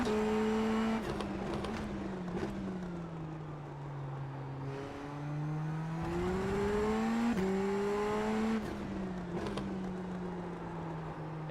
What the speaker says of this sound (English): how good does this car sound